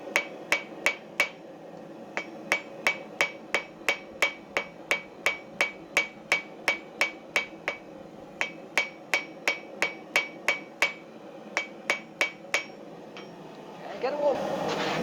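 Hammer forging a square taper on the distal inch of a scriber blank, about thirty ringing metallic blows in a steady rhythm, up close and clear, with a short pause midway and a faint rustle at the end.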